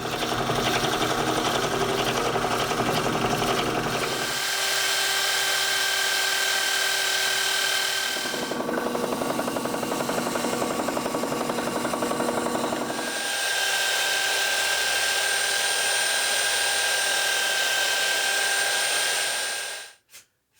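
A power drill bores tea-candle recesses into wooden Christmas tree cutouts with a 1.5-inch Forstner bit, its loud, steady motor whine dipping and rising as the bit cuts in and eases off, with no talk, until it stops abruptly at the end.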